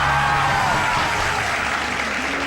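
A studio audience on a Pakistani Eid special morning show claps steadily, a loud, dense patter of many hands that holds at even strength throughout.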